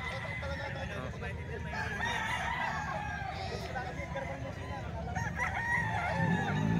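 Roosters crow among gamecocks for sale, several birds calling over a steady murmur of a crowd and someone talking nearby.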